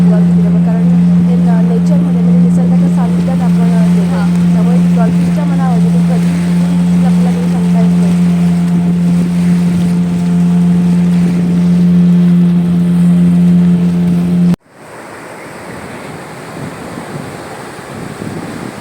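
A small dolphin-safari boat for twelve to fourteen people runs on the sea off Karde beach near Dapoli, its engine droning steadily and close amid wind and water rush, before an abrupt cut to louder, rough wind-blown surf noise.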